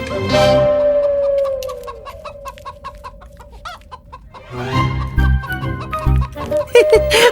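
A chicken clucks up close in a series of sharp, uneven calls, with a calmer stretch in the middle before the clucking grows busier and louder again near the end; faint voices sit in the background.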